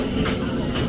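A freight train carrying Central Transport trailers passes close by, producing a brief, steady, heavy rumble with rail noise and no talking.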